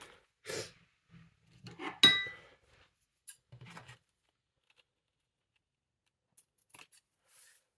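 Scissors snip ribbon on gift wrap made from upcycled scrap paper: a few crisp, close cuts with a sharp metallic snick in the middle, separated by quiet pauses and soft handling rustles.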